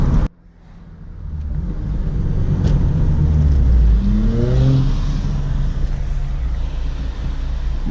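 A Honda Civic FG2 revs hard from inside the cabin, its engine note climbing steadily and turning sharper and louder as VTEC engages, then holding high and droning, with no talk.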